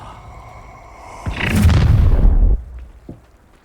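An Incendio fire spell cast in Hogwarts Legacy bursts into a loud, roaring whoosh of flame that lasts just over a second over a low background hum, then cuts off abruptly into a faint crackling tail.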